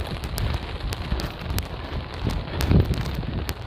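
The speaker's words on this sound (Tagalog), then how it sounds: "Lakas pa rin ang ulan" Steady, dense heavy rain pours down during a drive toward a bus station, with a constant hiss and low rumble, occasional sharper spatters cutting through the wash of noise.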